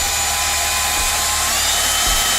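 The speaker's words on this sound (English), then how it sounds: "let the reamer do the job. It's going to cut away at the excess material inside the valve guide" Hand reamer cutting out excess material inside a Ferrea valve guide of a Honda B18 VTEC cylinder head: a steady, close, fairly loud broadband scraping hiss with a faint low knock near the end, no talking.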